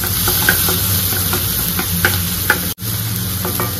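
A mustard-oil tadka of onion and tomato sizzles loudly and steadily in the pan, broken by repeated stirring scrapes and a brief dropout near the end.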